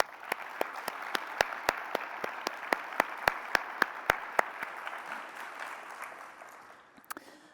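Audience applause at a national faculty meeting honoring an outgoing chair, a steady patter of clapping with distinct sharp claps standing out, fading gradually toward the end.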